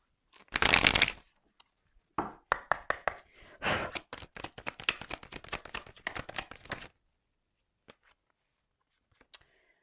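Tarot cards are shuffled by hand in a quiet room: a loud riffling burst, then a quick run of sharp, evenly spaced card slaps and flicks, followed by a few faint isolated taps as cards are drawn.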